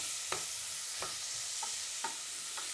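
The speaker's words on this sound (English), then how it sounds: "We're just going to let this saute a little bit for like 5 minutes" Lentil bolognese sautéing in a pan over medium heat with a soft, steady sizzle and a few spaced spoon stirs, quiet and close.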